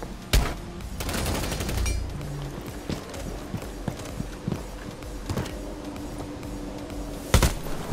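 Gunfire in the tactical shooter Rainbow Six Siege on the Bastion map, with sharp shots and bursts spread across the clip, a dense cluster near the start and a loud shot toward the end, over game ambience.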